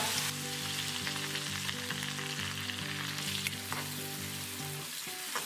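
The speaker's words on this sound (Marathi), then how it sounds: "कढई गरम करून घेतलेली आहे त्यामध्ये आपण बटाट्याची भाजी करायची आपल्याला तर यामध्ये मी जिरे टाकून घेतलेले आहे" Cumin seeds, masala and curry leaves frying in a hot kadai for potato filling, a dense continuous crackling sizzle heard up close with no talk.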